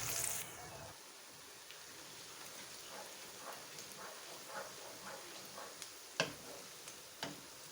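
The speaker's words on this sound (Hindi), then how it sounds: "प्याज को हम ऑयल में फ्राई करेंगे" Onions frying in oil for a chicken degi biryani give a steady, close crackling sizzle that runs throughout, with a few sharper pops near the end.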